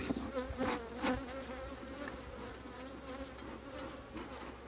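A thick, constant hum of many honey bees buzzing close by around an open hive during an inspection, with a few brief knocks near the start and no talking.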